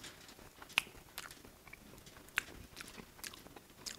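Close, quiet chewing of a mouthful of arroz con pollo, with soft crunchy bites and a couple of sharp clicks over a faint background, no speech.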